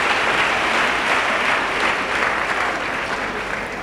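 A church congregation claps together in sustained, dense applause, a loud steady wash of many hands that holds throughout and eases off slightly at the end.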